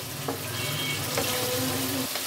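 Snakehead fish sizzles steadily in fried spice paste in a pan, a close crackling hiss with a few brief clinks and stirring scrapes.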